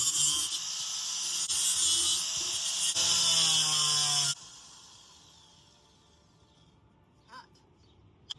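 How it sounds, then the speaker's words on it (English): A power grinder shrieks against metal on a rusted BMW shock mount, a loud harsh whine that surges and varies for about four seconds before stopping abruptly, leaving quiet handling noises and a couple of small clanks. "So when you grind metal, it gets hot."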